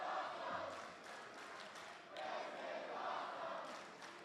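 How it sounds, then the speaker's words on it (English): A wrestling crowd at a championship match chants in rising and falling waves, the massed voices swelling loud, dipping briefly, then surging again across the arena. "The crowd chanting, "This is awesome," appreciating the efforts of both men"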